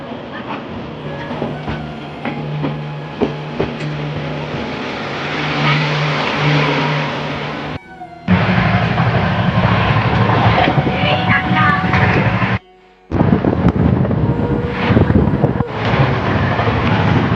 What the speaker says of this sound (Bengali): এখন সবাই ট্রেনে উঠে গেছে। ট্রেন ছেড়ে দিয়েছে